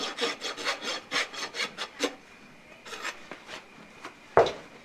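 A fairly fine-and-coarse hand rasp strokes back and forth across a livestock guardian dog's hoof in steady, close, rhythmic scrapes that slow and thin out, ending with a single sharp knock.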